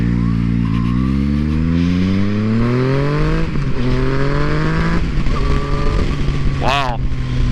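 A 2014 Yamaha FZ-09 motorcycle engine accelerates hard, its loud, close revs climbing through gears in rising sweeps, with a brief rev and drop near the end.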